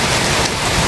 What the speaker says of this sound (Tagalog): Ganito na naman yung ulan.